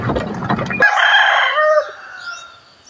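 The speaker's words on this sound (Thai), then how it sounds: "ไก่ออกหากินอาหารจากธรรมชาติ" A rooster crows loudly and close by on temple grounds in Lampang, Thailand, the drawn-out call ringing after some brief clucking, with chickens foraging nearby.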